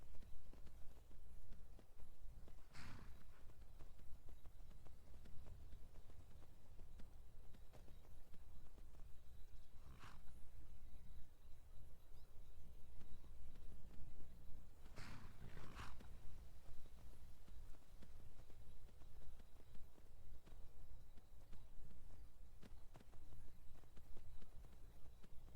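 Hooves of a modded horse in a video game clip-clop in a few faint, scattered beats over a steady low background hum, with no one talking.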